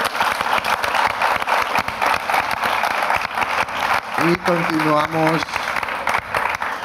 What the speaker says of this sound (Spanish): un aplauso, por favor, para Javier